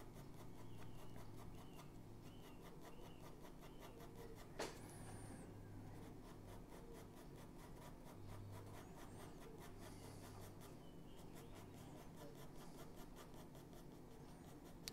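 A 2H graphite pencil shades on paper with soft, faint, continuous scratching strokes, close and quiet, with one brief sharper tap partway through.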